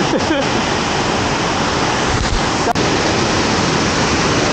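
The Lubuk Hitam waterfall rushes in a loud, dense, unbroken roar close by, with a brief clack partway through.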